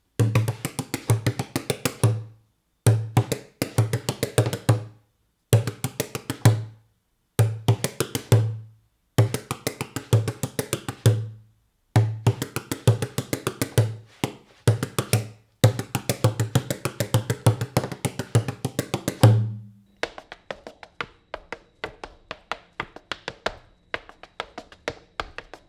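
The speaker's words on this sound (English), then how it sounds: "you can always use a stamp movement or something of that nature to make a little break in that" Hard-shoe sean-nós jig dancing with stamp movements, rapid rhythmic taps and thuds in repeating bursts separated by short pauses, close and percussive, with a lighter, quicker run of steps at the end.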